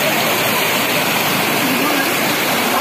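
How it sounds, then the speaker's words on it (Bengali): Remakri waterfall in Bandarban, Bangladesh, produces a loud, dense rushing roar of falling water that fills the whole short stretch without pause. "এটাই হচ্ছে রিমাক্রি জলপ্রপাত।"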